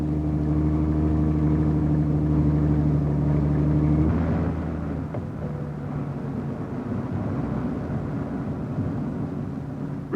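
A 1961 Ford Zephyr automatic held in low, locked in bottom gear, gives a steady droning engine rumble with a strong low hum throughout, the tone shifting and roughening midway as the engine note changes.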